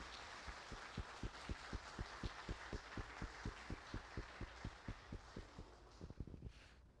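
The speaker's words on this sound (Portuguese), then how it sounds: "vamos então dar uma salva de palmas para essa nova diretoria" A church congregation claps for a newly installed board during a Sunday service, a steady rhythmic clapping of about two beats per second that runs for several seconds before loosening into scattered claps.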